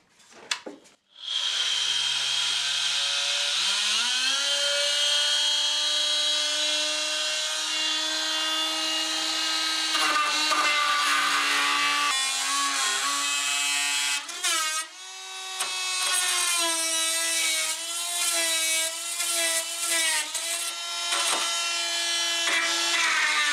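A loud, continuous, whining, tinny-sounding multi-saw grinds through wood close by for over twenty seconds, its pitch shifting and wavering as the cut proceeds.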